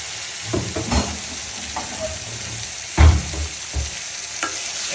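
Chili, ginger and garlic paste hitting hot oil with asafoetida in a pan for dum aloo, a continuous sizzle with several thumping stirs and scrapes, a stronger one midway, close and moderately loud, no voices.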